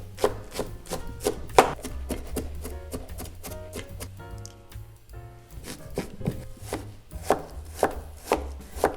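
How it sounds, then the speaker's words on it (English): A knife chops leek and green onion on a cutting board in quick, close, crisp bursts of strikes, pausing briefly midway before resuming, with no talk. "We're going to chop them."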